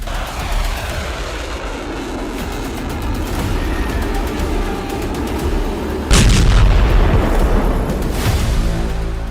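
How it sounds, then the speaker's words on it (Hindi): Bomb explosions from fighter jet strikes on Tehran rumble in a dense, continuous barrage of booms, with a sharper, louder blast hitting partway through over the ongoing roar. "जंगी जेट से तेहरान में 100 बम विस्फोट।"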